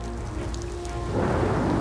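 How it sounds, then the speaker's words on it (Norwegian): Heavy rain pours down at the Dyreparken zoo in Norway, a dense hiss of drops on surfaces that grows noticeably heavier and louder partway through. "i dag regner det skikkelig"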